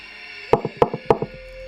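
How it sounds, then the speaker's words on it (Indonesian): Three sharp, close raps on a bedroom door, each followed by a softer echoing tap, in a quick evenly spaced series against a quiet room. "Suara ketukan pintu masih berbunyi."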